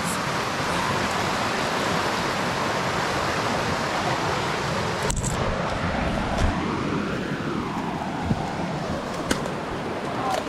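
A river runs steadily beside a backcountry campsite near Fording River Pass, with snow lingering in the shade. The broadband rush of the water carries on without a break for the whole stretch, and a few faint knocks and a brief rustle sit on top of it.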